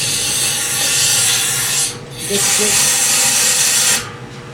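Compressed air blasts through the axle tube of a Bobcat S185 Turbo skid-steer loader, a loud, close hiss in two long bursts with a short pause between them.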